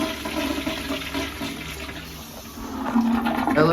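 A hotel toilet flushes close by with a loud rushing gush of water that swells again near the end, no voices present.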